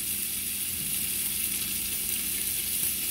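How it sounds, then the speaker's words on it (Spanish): Chopped onions and green chile fry in a hot pan with a steady, dense sizzle that holds constant and fairly loud throughout, with no talking over it. "Y le voy a agregar la cebolla y el chile verde"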